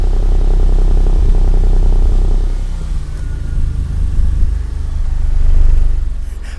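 An Audi engine idles on a cold start after a sensor swap, a close, steady, deep rumble with a faint clattering edge, easing slightly midway and then swelling a little near the end, with no voices.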